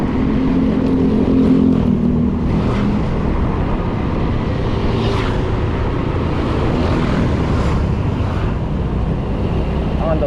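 Honda Beat 110 scooter riding along, with steady broadband engine and wind noise throughout, fairly loud and continuous, with a few brief higher-pitched swells passing over the drone.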